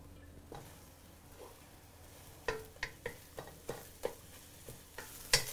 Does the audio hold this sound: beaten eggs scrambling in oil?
yes